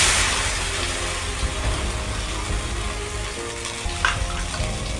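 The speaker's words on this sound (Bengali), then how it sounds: "কড়াইশুঁটির পেস্টটা দিয়ে একটু কষিয়ে নেব।" Green pea paste added to a hot wok after asafoetida and fried over low flame for kachori filling, producing a loud, steady, close hiss with a brief clatter near the end.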